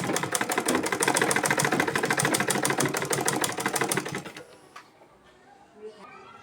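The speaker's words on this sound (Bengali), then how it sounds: "এটাকে ভাঁজ করে আমি মেশিন নিচে দিয়ে নিব, আর এখন এরকমভাবে 3-4টা সেলাই করে দিয়ে নেব" A sewing machine stitches the folded hem of a lungi in a fast, steady mechanical rattle for about four seconds, then stops abruptly, leaving quiet handling noises.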